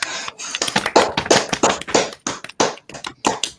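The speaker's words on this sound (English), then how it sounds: "Round of applause." Applause from a comedy club audience after a comedian's introduction, sparse and uneven, with distinct separate claps rising and falling in bursts rather than a dense roar.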